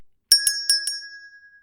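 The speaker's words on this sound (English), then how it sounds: "The shop bell cheerily chirped my arrival." A shop door bell chimes as someone enters, four quick bright metallic strikes followed by a long ringing tone that fades out in an otherwise quiet space.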